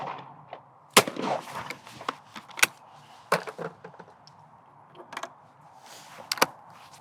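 Shotgun shots ring out at a pair of crossing clay targets on a shooting ground, several sharp, loud cracks spaced a second or two apart in bursts, with quieter rustles and clicks between them.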